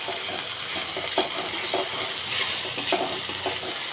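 Okra stir-fried in oil in an open pan, with no lid, crackles with a steady, dense sizzle while a utensil scrapes and stirs at intervals throughout.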